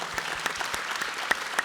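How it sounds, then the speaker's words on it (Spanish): Applause for mothers at a Mother's Day church gathering: scattered, fairly quiet clapping with a few sharper individual claps standing out over the brief stretch. "Un aplauso para las mamás otra vez."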